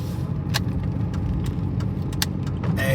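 A car cruising through a neighborhood on a rainy day, its engine and tire noise a steady close hum with scattered small clicks and a wet hiss near the end.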